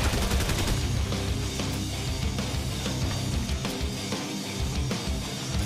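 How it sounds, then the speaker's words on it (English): Heavy shotgun fire during a Fortnite match: dense, continuous gunfire with repeated sharp blasts, loud and close, over a busy game soundtrack. "Oh, I hate the heavy shotgun."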